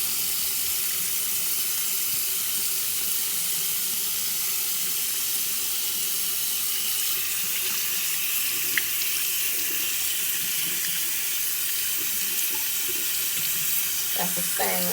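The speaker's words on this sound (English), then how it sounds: "Keep on rinsing it because it will hold soap too." A makeup brush rinsed under a running tap during a deep clean, a steady close rush of water that continues evenly throughout with faint splashes.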